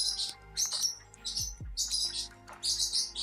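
An indoor pet bird chirps and tweets in rapid, high, repeated bursts close by, with brief pauses between flurries and a low hum underneath.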